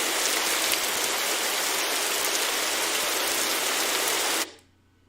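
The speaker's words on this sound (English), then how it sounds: "And it's raining" Steady heavy rain pours down in the game The Great Circle, a dense continuous hiss that fills the scene before cutting off abruptly near the end.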